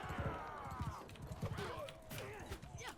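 Rhythmic clip-clop of horse hooves with a faint whinny in Mount and Blade, mixed with busy game sound effects, under a steady bed of activity.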